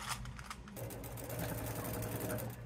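A sewing machine runs steadily, stitching the hem of a crib sheet with a continuous close whirring hum, starting after a brief lighter patch of handling noise.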